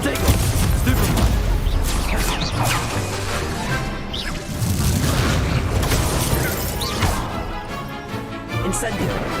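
Confringo fire-spell explosions in the video game Hogwarts Legacy: a dense, continuous barrage of booms, crashes and whooshing blasts, loud and close, with a voice calling out over the chaos.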